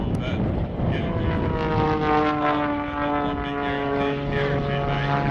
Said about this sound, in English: you'll see he's got the airplane over upside down